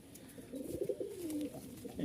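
A running pigeon with long feathered feet coos quietly in a loft, a low soft gurgling call swelling and fading over faint background hiss.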